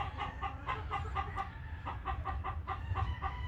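Imported breeding chickens cluck steadily on a farm, a rhythmic run of repeated clucks at moderate distance against a low background hum.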